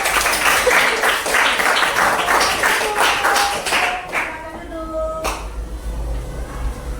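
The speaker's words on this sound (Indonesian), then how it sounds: "Tepuk tangan untuk teman-teman." Classmates in a classroom applaud, a dense patter of clapping that thins and fades after about four seconds, leaving room tone with a few faint tones.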